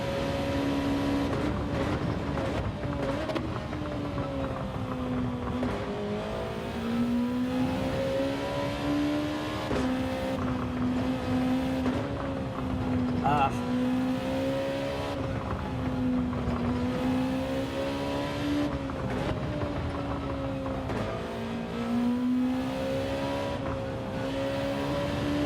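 A Honda NSX race car lapping Suzuka in Gran Turismo 7, its engine droning loud and close without a break, the pitch rising and dipping through shifts and corners.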